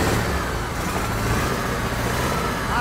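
A car engine revs steadily and loudly close by, a dense continuous roar that holds nearly level through the moment, with a brief higher whine near the end.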